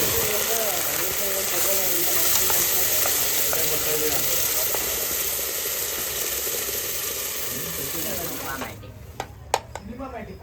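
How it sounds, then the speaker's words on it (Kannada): Ginger, garlic and onion paste sizzles steadily in hot oil in a pressure cooker on a stove, a dense, even frying hiss that runs loud and close for most of the stretch, then thins out near the end into a few sharp clanks. "ಎಣ್ಣೆ ಕಾಯ್ದಿದೆ. ಇವಾಗ ಶುಂಠಿ ಬೆಳ್ಳುಳ್ಳಿ ಈರುಳ್ಳಿ ಪೇಸ್ಟ್ ಹಾಕ್ತಾ ಇದ್ದೀನಿ."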